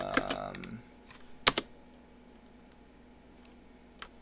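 Computer keyboard typing at a desk: a quick burst of clicks, then scattered single keystrokes with a sharp double tap in the middle, fairly faint and close, with a low hum underneath.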